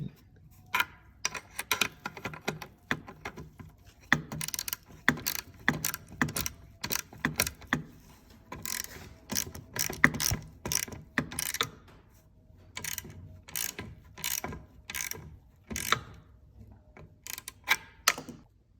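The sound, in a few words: ratchet tightening carburetor nuts on Stihl 031AV chainsaw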